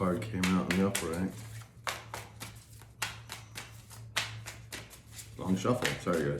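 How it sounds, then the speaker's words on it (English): Tarot cards being given a long shuffle, with quick bursts of riffling and tapping separated by short pauses, close and fairly quiet, while someone talks over parts of it. "Long shuffle."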